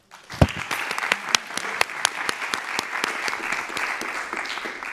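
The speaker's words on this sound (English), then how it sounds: "Round of applause." Audience applause at a panel discussion during a climate justice dialogue, a burst of clapping that begins sharply and continues steadily with distinct individual claps, close and loud, with no talking over it.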